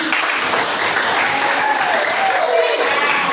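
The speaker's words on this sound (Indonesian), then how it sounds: "Tepuk tangan buat ini" Steady applause from a ninth-grade fiqh class fills the room, an even wash of many hands clapping at constant loudness with a voice faintly under it.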